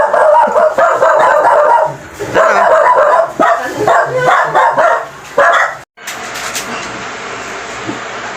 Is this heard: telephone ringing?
no